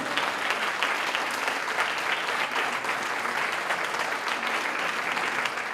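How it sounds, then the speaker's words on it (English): Women in an audience stand and clap together for an honoured guest, giving continuous, fairly distant and moderately quiet applause that stays even throughout with no voices on top. "Now, ladies, I want you all to stand up and clap for this gentleman."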